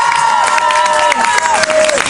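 Studio audience applause, cheers and shouts welcoming a band on a live Virgin Radio show in Caen, loud and close with a sustained tonal sound running through the crowd noise.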